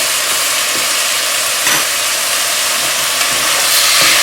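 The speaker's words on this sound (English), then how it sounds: "again mix them well, stir them well so they are cooked balanced" Chili with ground cumin and chili pepper sizzling in a pot as it is stirred, a dense, loud, continuous frying hiss with faint scraping, no talk.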